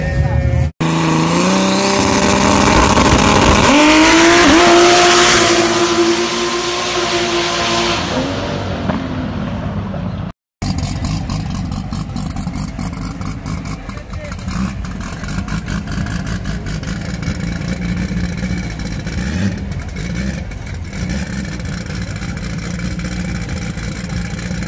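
Turbocharged six-cylinder Chevrolet Opala race car pulling hard at full throttle, a loud, close engine roar climbing through the first ten seconds, then a steadier engine drone with background voices.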